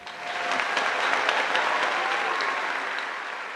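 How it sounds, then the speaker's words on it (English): A small audience claps for a musician guest on a talk show, swelling quickly into steady applause that holds for a few seconds before tapering off, with no talk over it. "Applause, please."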